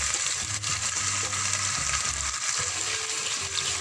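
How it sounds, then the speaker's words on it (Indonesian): Blended chili paste goes into hot oil with crispy fried onions for an old-style chicken curry, giving a steady, close sizzle and bubbling hiss that runs continuously without talk. "Kemudian kita masukkan terus cili blender."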